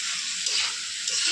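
Vegetables (papaya, potato, cauliflower) frying in a pan of cooked-down spices, giving a steady close hiss and sizzle with light stirring throughout.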